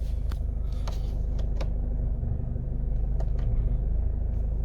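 A Mercedes V Class engine runs at a low, steady idle, a deep continuous rumble with a few faint clicks and knocks over it.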